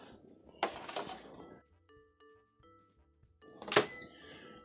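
Low carb copycat Big Mac buns go into an air fryer oven, with two clear clinks of a tray or basket knocking metal and glass, one early and one loud near the end, a soft hum and faint tones between, and no talk.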